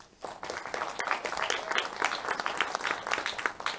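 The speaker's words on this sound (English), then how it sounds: "give our panelists a round of applause" Audience applause for panelists in an auditorium, a light, fairly distant scatter of claps that builds quickly and continues steadily.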